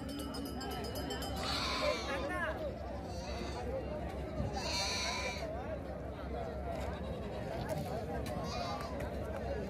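Goats bleat at an outdoor livestock market for sheep and goats in Devarakadra, several wavering cries rising above a steady crowd hubbub and nearby talking.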